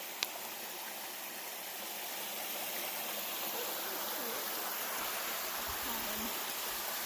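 Creek water flowing in a broad, steady rushing hiss that fills the scene, close and constant, with a brief tap at the start and faint low voices murmuring underneath.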